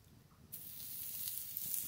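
Spiced cauliflower florets dropped into a hot wok burst into a loud, steady sizzle that starts abruptly and keeps hissing strongly to the end, with no talk.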